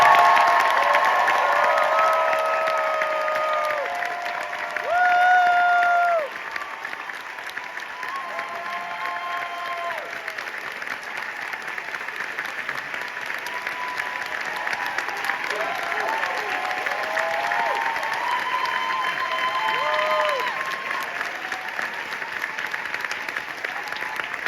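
A theatre audience at the final curtain call of the musical Come From Away claps and cheers in sustained applause, dense and far-off, with whoops and shouts rising above the clapping throughout.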